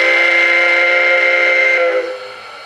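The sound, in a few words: Baltimore and Ohio 3-chime steam whistle from a TCS WOW sound decoder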